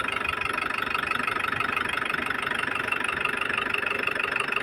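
An Isuzu Trooper's 4JX1 diesel engine idles steadily after an oil pressure pump repair, a close, even mechanical clatter that runs alone without a break.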